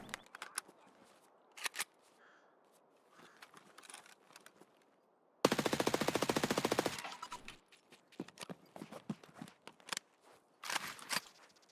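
Gunfire in Escape from Tarkov: scattered single sharp shots, then a rapid automatic burst of about a dozen evenly spaced rounds, followed by more isolated cracks against a quiet background.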